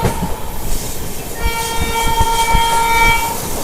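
The Pinakini Superfast Express, an LHB-coach train, pulls into Naidupeta station with a steady rumble of wheels, then a long, loud horn blast sounds close by.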